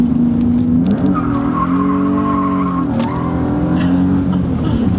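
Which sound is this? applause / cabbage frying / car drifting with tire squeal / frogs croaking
car drifting with tire squeal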